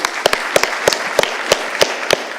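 Seminar audience clapping to thank the organizers, a sharp, somewhat sparse rhythm of distinct claps repeating at a steady pace, fairly close and loud over a faint room hum, no speech.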